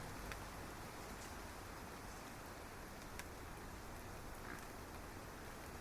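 Steady rain falls on a grey September day by a river, a soft, even hiss of drops with a few faint ticks on hard surfaces, constant and unbroken throughout with no voices.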